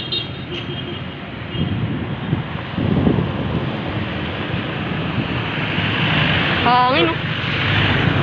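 Wind buffets the microphone in gusty rushes with a low roar beneath, and a voice briefly speaks near the end.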